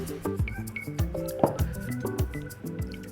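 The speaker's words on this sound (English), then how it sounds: "by painting the water around that crease in the bottom corner" Wet brush dabbing water along the crease in the bottom corner of a paper-lined baking tin, soft squishy drips and small clinks repeating about every half second, close and alone.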